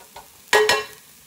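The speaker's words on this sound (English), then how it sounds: "Let's stir the onions." Onions frying in a pan for a meatloaf with sweet tomato sauce get stirred in two quick scraping strokes over a soft sizzle, the pair of scrapes loud and close, with a faint tap just before.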